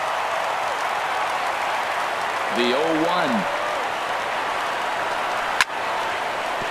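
A baseball crowd of over 39,000 roars steadily on its feet through a perfect game, a continuous wash of cheering and applause under a commentator's voice, with one sharp crack near the end.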